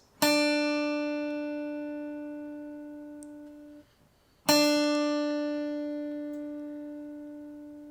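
Two plucked acoustic guitar notes on the second string, each ringing clearly and slowly fading, with a short silent gap before the second pluck.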